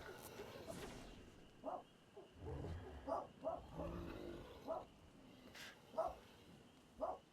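A dog in a tribe-growing video game barks repeatedly and steadily, several single barks spaced about a second apart at moderate loudness, with a low rumbling game background in between.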